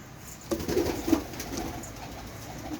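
Pigeons coo softly on a home balcony, with a few low murmuring calls close by over faint background hiss.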